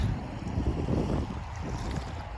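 Wind blows in a steady low rumble with rough buffeting against the microphone, continuous and fairly loud throughout.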